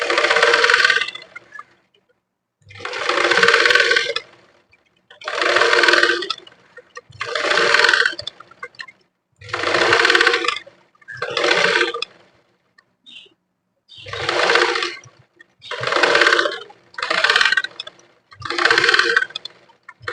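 A sewing machine stitches along the folded edge of blouse fabric in about a dozen short bursts of whirring, each around a second long and separated by brief pauses.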